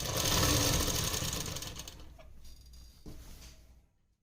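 A sewing machine stitches the elastic waistband of a ladies' trouser, a loud steady run of needle clatter that slows and fades out near the end.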